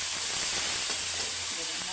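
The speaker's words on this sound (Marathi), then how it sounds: "त्यामुळे मी मटारचे दाणे घालते" Green peas are tipped into hot oil for tempering, and a loud, steady sizzling hiss holds evenly throughout without a break.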